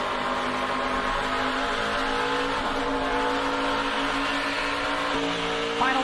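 NASCAR race cars racing in a tight pack on the Homestead track, a dense continuous roar of engines with shifting pitch as the cars pass, loud and steady with no talk.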